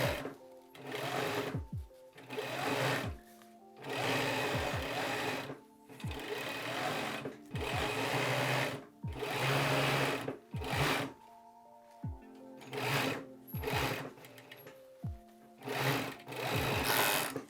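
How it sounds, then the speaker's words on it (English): A sewing machine stitches around the neck of a basketball jersey in a series of loud, close runs of rapid whirring, each broken by short pauses. "that's where I'm gonna start sewing."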